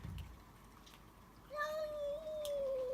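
A cat gives a drawn-out, wavering meow at close range, rising and sliding in pitch for over a second, after a few faint rustles and a quiet moment.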